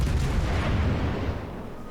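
A Des Moines cruiser's armour-piercing salvo booms out in World of Warships, a deep rolling burst of heavy gunfire that fills the moment and then slowly fades.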